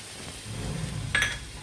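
Tomatoes and capsicum frying with scrambled egg for egg bhurji give off a soft, low sizzle with a short sharp clink of a utensil near the end, faint and without speech.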